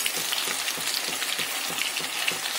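Bread-crumb coated chicken kababs frying in oil on medium heat give a dense, steady sizzle and crackle, close and even throughout with no pauses.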